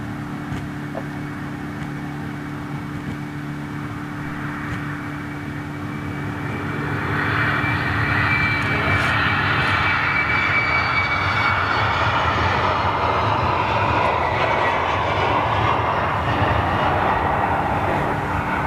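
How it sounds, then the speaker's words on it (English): A jet airliner taxiing at Schiphol airport gives a steady, broad engine roar with a whining tone, growing louder partway through and holding close, with no talk. "I do see something taxiing up this way."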